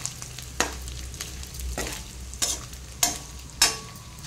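Ingredients fry in a pan with a soft, steady sizzle, broken by several sharp stirring scrapes and clatters at irregular intervals.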